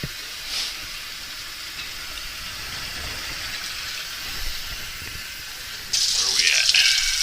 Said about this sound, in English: So we're going to take the cold water to that mark.